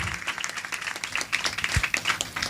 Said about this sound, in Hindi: आइए ताली बजाकर अपने स्थानों पर बैठ जाएं